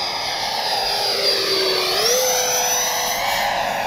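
A Freewing JAS-39 RC jet plane flies a pattern overhead, giving a loud, steady turbine-like whine whose pitch dips and rises as it passes, heard alone.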